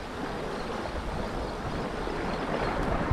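A fast-flowing river current rushing past at a rocky fishing spot, a dense, steady broadband roar of moving water with no voices.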